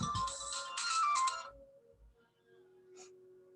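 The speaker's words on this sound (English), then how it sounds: "This is what happens when you don't mute your cell phone." A cell phone ringtone from an incoming scam call plays loudly as a bright repeating melody for about a second and a half, then cuts off, leaving a faint hum and a short electronic blip near the end.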